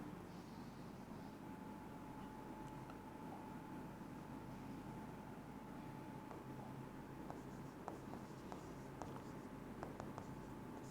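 Writing on a board during a physics class, faint scratchy marker strokes that grow into a run of short ticks and taps over steady low background hum.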